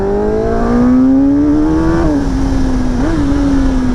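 A 2025 Kawasaki ZX-10R engine pulls hard up a small mountain pass, its loud, steady rising whine climbing through the revs with a brief dip around a gear shift, heard from the rider's position over wind noise.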